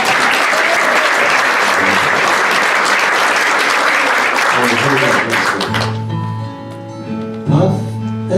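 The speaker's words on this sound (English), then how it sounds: "Can we have applause for Tammy?" A concert audience applauds loudly and steadily for several seconds, then the clapping thins out as a guitar and singing voice begin over the last of it.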